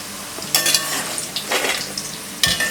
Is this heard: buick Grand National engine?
no